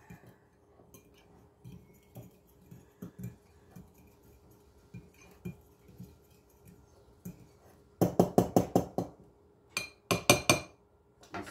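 About fifteen drops of wintergreen oil are stirred into a homemade tooth care mixture in a glass container. Faint taps come first, then quick bursts of a spoon clinking against glass, close and fairly loud, with no talking.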